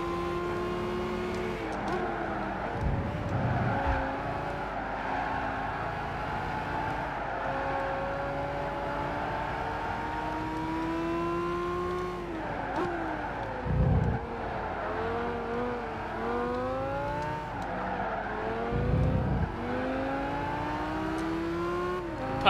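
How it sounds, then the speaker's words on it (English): Racing cars in Gran Turismo 5 drone steadily, with engine notes rising and falling through gear shifts while overtaking a Ferrari. Several sharp shifts break the continuous mid-level hum, and no voices can be heard. "Alright, let's overtake the Ferrari."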